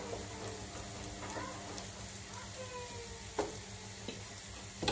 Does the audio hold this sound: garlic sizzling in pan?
yes